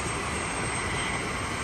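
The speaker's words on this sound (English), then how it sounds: "So 2 Blackhawk helicopters just landed." Two Black Hawk helicopters land at a running track during hurricane relief work in Las Marias, Puerto Rico, giving a steady, dense roar of rotor and engine noise that stays loud and unbroken throughout.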